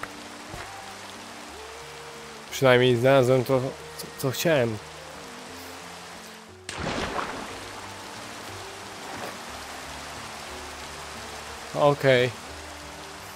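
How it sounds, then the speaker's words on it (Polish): Steady soft hiss of Minecraft rainfall runs throughout, with someone talking briefly over it and a few short tonal game sounds. "To deszcz w Minecraft."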